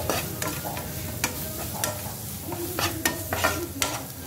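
A spoon scrapes and turns masala seasoned with Maggi masala in a frying pan, with repeated stirring clinks over a constant oily sizzle, close up and without talking.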